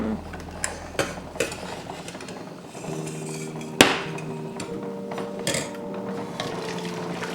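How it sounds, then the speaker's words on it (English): A spoon stirs wild violet jelly in a pot, giving scattered metallic clinks and scrapes against the pan, a few sharp knocks early on, then a quieter steady bubbling hum behind the stirring. "Stir frequently so it doesn't get sticky down the bottom."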